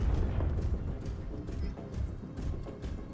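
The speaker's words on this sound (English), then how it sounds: "Loads of some explosions." Explosions in an Electronic Arts video game trailer, a rumbling series of deep booms and blasts, fairly loud and continuous with repeated impacts.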